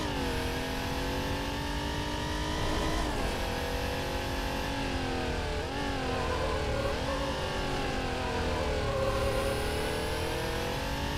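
A Porsche engine in Need for Speed climbs alpine serpentines, droning steadily and close up, its pitch rising and dipping through repeated gear changes and throttle shifts for the whole stretch, with no talking.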